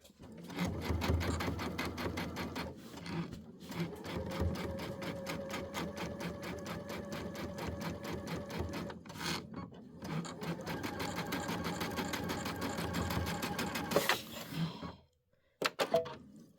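Embroidery sewing machine stitching in the ditch through a thick quilt, a rapid mechanical chattering rhythm with short pauses as it repositions, close and steady before stopping near the end.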